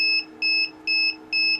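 Low-temperature alarm on an egg incubator, a loud electronic beep repeating in regular pulses about twice a second over a faint steady hum, no talking.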